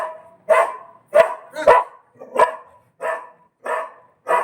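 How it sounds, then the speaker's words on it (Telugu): Dog barking at a crow: seven or eight sharp, fairly loud barks in a steady, evenly spaced rhythm with short quiet gaps between them, and no talking. "కాకి కుక్క అయితే అరుచుకుంటున్నాయి చూడండి"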